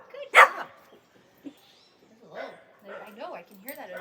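A dog gives a sharp bark up close, followed by softer whimpering and yips mixed with a person speaking.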